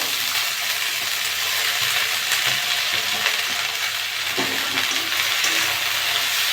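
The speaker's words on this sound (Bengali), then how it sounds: "পেঁয়াজটা একটু ভেজে নিয়েছি, এবার আলু আর শাকগুলো দিয়ে দেবো" Potatoes and kulekhara greens frying in a pan with onions, producing a loud, continuous hissing sizzle with occasional stirring clinks and no speech.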